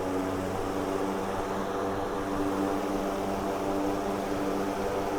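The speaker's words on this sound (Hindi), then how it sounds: "ये वाली हमने लगा ली 18 इंची और हम मोटर को रन करते हैं और बूस्ट मोड हमने प्रेस किया" A 90-watt BLDC cooler motor fitted with an 18-inch blade runs on boost mode, producing a steady, close, even whirring hum with a droning tonal edge and no breaks.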